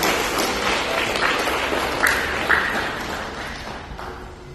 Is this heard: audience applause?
yes